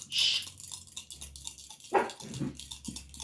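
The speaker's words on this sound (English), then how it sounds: "The guy's barking out at the window" A dog barks at a window indoors: a few sharp, close barks with short pauses and a soft whimper between them, alone without talk.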